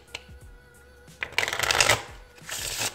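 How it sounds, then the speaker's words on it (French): A deck of playing cards being cut and shuffled for a magic trick, with a few soft taps followed by two bursts of riffling cards, close and clear, with no talking. "il faut que le spectateur coupe le jeu et mélange le jeu"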